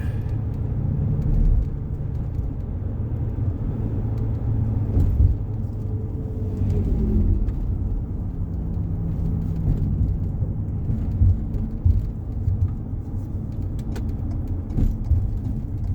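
A car drives on a highway around the Morenci copper mine near Clifton, Arizona, giving a steady low interior road rumble and engine drone throughout, with no talk.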